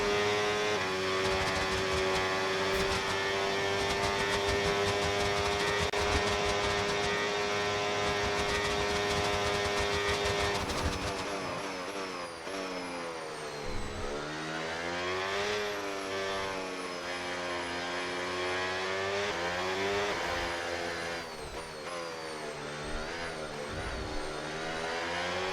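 An F1 race car engine in the F1 25 game screams at high revs, holding a steady whine before surging through repeated rising and falling gear shifts, loud and continuous with no talking.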